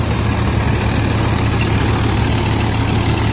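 A Swaraj 855 tractor engine idles loudly and close by, a steady low rumble with a throbbing pulse that holds even throughout, with no voices.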